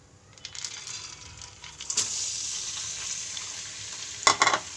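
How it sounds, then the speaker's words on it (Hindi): Chana dal fries in about 200 grams of hot ghee in a kadai, the sizzle swelling from quiet to a steady hiss, with a sharp stirring scrape near the middle and a louder burst of scraping strokes near the end. "चलिए हम यहाँ पे दाल को फ्राई करेंगे।"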